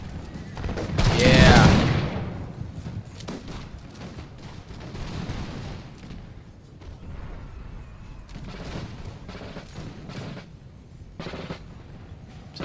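Infantry musket volleys in the Napoleon: Total War Battle of Friedland, one loud crackling fusillade followed by scattered softer shots and pops in the distance, with brief speech.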